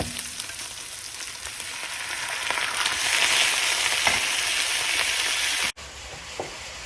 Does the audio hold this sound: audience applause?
no